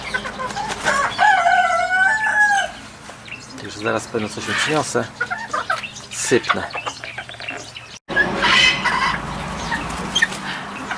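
Sebright hens cluck and a rooster gives a short crow early on, close by, while someone talks over the birds in an outdoor yard.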